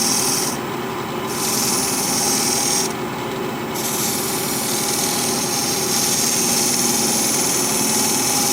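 Steady rasping scrape of a 3/8 inch gouge cutting spinning walnut on a wood lathe, continuous and close, with the motor humming underneath.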